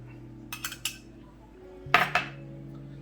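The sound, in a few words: mixing mashed potatoes with mayonnaise in a pot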